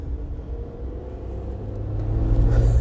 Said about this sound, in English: a raucous little engine